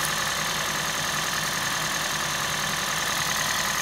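A hybrid car engine runs at a steady idle while coil four fires, a close, even broadband mechanical hum and buzz that holds level throughout without talk.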